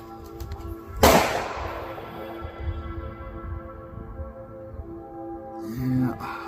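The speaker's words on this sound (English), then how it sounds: "Okay, shooting at 100." A single sharp crack from a Ruger 22 Charger compact .22 pistol firing at 100 yards, close and loud, followed by a long fading outdoor echo and low background noise.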